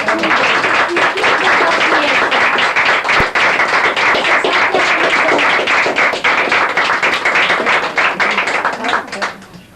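Loud, sustained audience applause at a French merit medal ceremony in Paris, dense clapping from many hands that holds steady for nearly ten seconds before tapering at the end, with voices mixed in.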